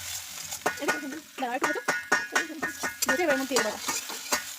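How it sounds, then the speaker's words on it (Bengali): An egg sizzles in a hot pan while being stirred, with a steady frying hiss and scraping beneath continuous close talking. "আমরা ডিমটা ভেজে নিই"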